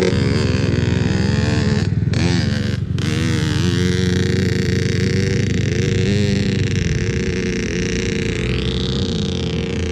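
A two-stroke motorcycle's engine drones loud and close during a riding lesson, holding a raspy, sustained note with a few quick throttle dips and a rising pitch near the end.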